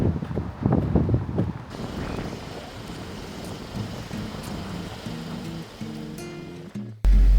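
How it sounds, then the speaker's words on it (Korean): Strong gusty wind buffets outdoors on Jeju Island near a camper van, a loud rumbling roar that is strongest at first, then settles into a steadier blustery rush before an abrupt thump at the end. "바람 미쳤나봐."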